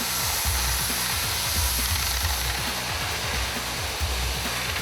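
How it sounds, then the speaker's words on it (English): Cam-driven flame cutting machine cutting roller chain sprocket teeth in a factory, a loud roaring hiss over a rhythmic low mechanical thumping that repeats steadily throughout. "Here we utilize a specific built machine operating on a cam system that can cut roller chain profiles with a 10 thou tolerance."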